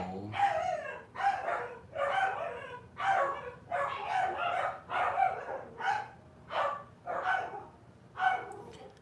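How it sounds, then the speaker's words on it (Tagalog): Dogs bark repeatedly in a steady series of loud, rhythmic barks, about ten in a row, fairly close. "Ang ingay ng mga aso"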